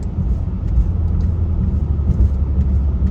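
A Mercedes-AMG GLE 43 engine drives in Sport Plus with manual shifting, giving a steady, loud low rumble that runs unbroken and close throughout.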